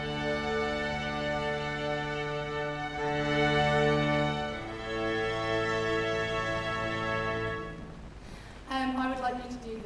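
A plagal cadence from an orchestra, two sustained chords held loud and full, then a brief burst of other sound near the end as the music stops.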